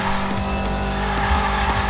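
A fast game car slides sideways in a drift with a loud, continuous tire squeal and engine drone, plus a few screeching sweeps, with no voices.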